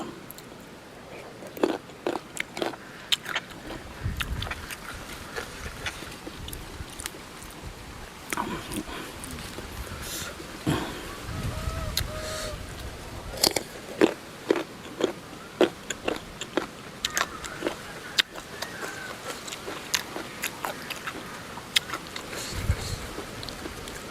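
Unripe Thai mango bitten and crunched up close outdoors, with repeated sharp crisp bites and wet chewing spread across the whole stretch, interrupted by short quiet pauses.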